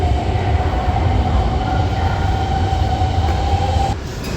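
A Hanoi Metro Line 2 train hums and rumbles loudly and close by, with a steady tonal whine that cuts off near the end as the noise shifts.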